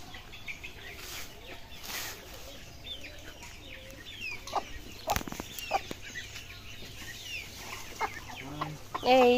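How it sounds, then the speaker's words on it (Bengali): Chickens cluck softly around a hen with newly hatched chicks in a village yard, with intermittent cackles and faint peeping, a few sharper calls, and brief voices in the background. "এই দেখো নতুন মুরগির বাচ্চা হয়েছে"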